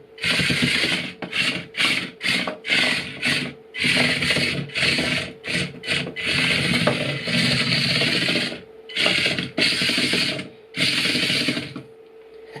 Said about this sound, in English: first push test with the new legs is this gearbox, this planetary gearbox